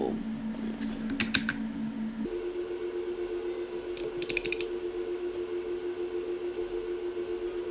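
Two short bursts of quick keyboard typing, a tight cluster of crisp clicks each time, sit over a steady electronic hum that shifts pitch partway through; no one speaks.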